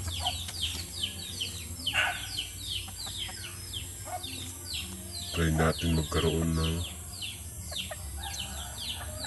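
Hens of two-way cross breeds (grey and gold) cluck and chirp in short bursts around a farmyard, with someone speaking over them partway through.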